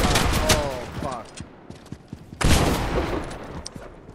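Shotgun blasts in Fortnite, two sharp, loud booms with smaller clicks and impacts between them, with a player's voice briefly heard.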